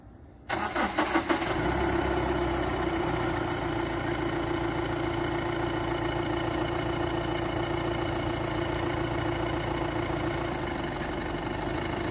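A Mahindra Bolero pickup truck engine cranks and catches, then settles into a steady, loud idle that continues without letup.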